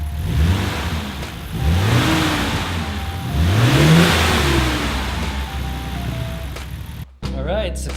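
A car engine, fresh from ignition work, runs and revs in two rising-and-falling pulls over a steady idle before cutting off abruptly near the end, followed by a brief, faint, different sound.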